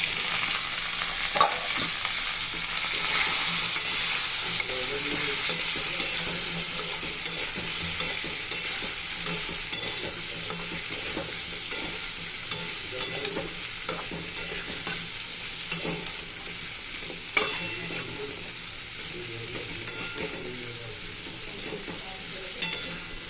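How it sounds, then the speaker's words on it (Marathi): Cut totapuri raw mango is stirred in a frying pan, a constant sizzle underneath repeated scraping and clinking strokes of a spoon against the pan, steady and close for over twenty seconds. "हे सगळं चांगलं हलवून घ्यायचं आता यामध्ये आपण ही कापलेली तोतापुरी कैरी घालणार आहोत"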